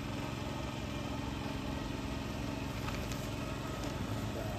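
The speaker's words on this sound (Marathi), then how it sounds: "आणि तिकडे आता जितेंद्र ट्रॅक्टर चालवतोय." A tractor engine runs steadily in a wet farm field being prepared for planting, a constant close rumbling drone that fills the whole stretch without talk.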